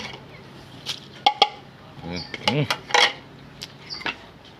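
Mixing a sour, spicy Thai seafood instant noodle salad with squid: metal utensils clink and scrape against a bowl in irregular bursts close by, with someone talking over the clatter.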